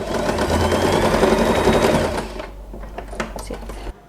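A sewing machine stitches fabric for a scrunchie made from an old elastic hair tie, running in a steady, close, rapid whir for about two seconds before stopping, leaving quieter handling clicks and taps.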